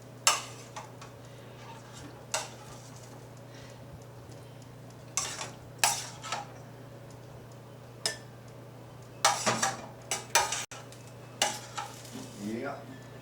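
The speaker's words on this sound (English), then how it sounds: "Making stir fry in the kitchen." Pots, pans and cutlery clanking while stir fry is made in a home kitchen: scattered sharp clinks and clatters, some in quick bursts, over a steady low hum, fairly quiet.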